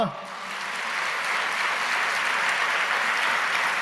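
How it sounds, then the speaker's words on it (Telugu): A church congregation breaks into sustained applause, a dense even wash of many hands clapping that swells quickly and holds steady, with a voice at the very start. "చప్పట్లు కొడదామా"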